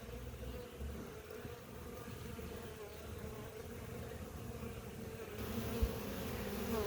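Honey bees buzz steadily while gathering nectar and pollen, a continuous close drone of many insects outdoors with no voices, the hum swelling slightly toward the end.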